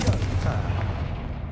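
A Confringo blasting spell erupts in Hogwarts Legacy, a loud, close explosive boom with a deep rumbling tail that fades out over about a second and a half.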